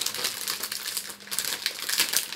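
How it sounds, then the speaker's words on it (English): Plastic packaging of a model kit crinkles and crackles close up in a continuous stream of sharp rustling, loud and busy for a couple of seconds, with no voice over it. "Sorry for the crinkly sounds."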